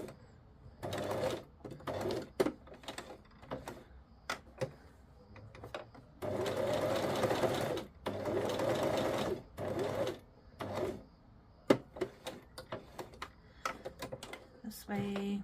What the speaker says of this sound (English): I'm going to do a straight stitch through here